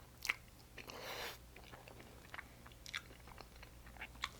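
Someone eats shrimp fettuccine alfredo up close, with faint wet chewing and a few soft bites and smacks over a low room hum, no speech.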